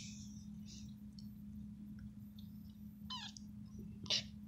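A one-week-old kitten gives several short, thin meows spread across the moment, faint and close against a steady low hum, with a sharper, louder cry near the end.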